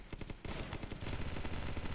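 Rapid automatic gunfire from a gun in a zombie survival video game crackles in quick bursts, a dense rattle of shots with brief gaps, fairly faint and with no talking.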